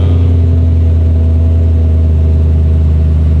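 A BMW E90 M3 engine running loud and close in a steady, deep, even drone that holds without any clear swell. No voices are heard over it.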